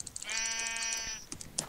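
A single drawn-out bleat from a video game sheep, clear and fairly close with a buzzy, wavering tone, followed by a couple of quick clicks.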